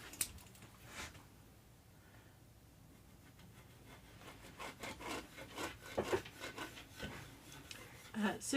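A wooden guitar neck being carved by hand during a charity guitar build, with steady rasping, scraping strokes growing louder and more rhythmic, close up, with faint background noise.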